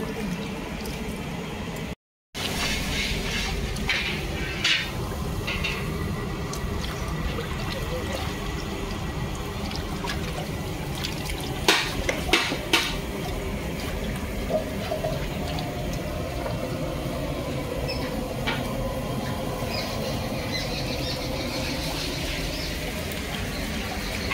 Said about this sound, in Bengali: এইভাবে সব মাছগুলো পরিষ্কার করে ধুয়ে নেব।